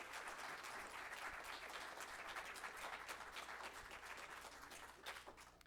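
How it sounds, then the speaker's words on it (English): A live audience applauds debaters after a global warming debate, a steady, dense wash of clapping that holds at an even level for several seconds with no talk over it. "Let's give our debaters a round of applause."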